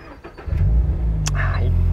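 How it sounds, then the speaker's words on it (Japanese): A Toyota GR86 RC grade car starts up: a brief starter crank, then the engine catches and settles into a steady, loud idle close by. "さあじゃあエンジンかけたいと思います。"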